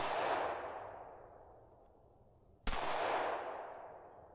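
A G2C .40 S&W pistol fires two sharp shots about three seconds apart, each cracking loudly and then trailing off in a long, fading echo.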